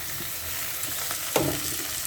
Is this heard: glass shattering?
no